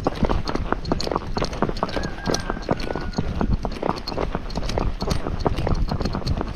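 Fox Trotter horse ridden down a road, its hooves clip-clopping in a quick, steady gaited rhythm, close and loud throughout with no talk.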